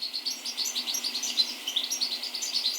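Goldfinches sing in a Hampshire garden, a fast, bright run of twittering chirps repeating without a break, clear and fairly close.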